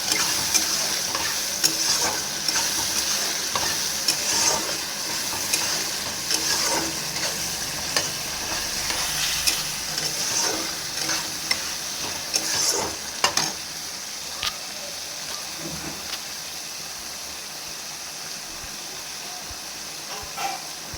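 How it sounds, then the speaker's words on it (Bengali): A paste of ginger, cumin and green chilli fries in oil for banana-flower mocha ghonto, a continuous loud sizzle with repeated scraping strokes of a spatula stirring the pan, close and steady throughout. "এটার মধ্যে দিয়ে এবার ভালো করে মশলাটাকে কষিয়ে নেব"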